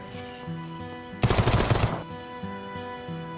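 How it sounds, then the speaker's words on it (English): A UN P9 SMG chambered in 5.56mm from the video game VEIN fires one rapid automatic burst of just under a second at 950 rounds per minute. The burst is loud and sharp over a quiet, steady tonal background. "We've added the UN P9 SMG."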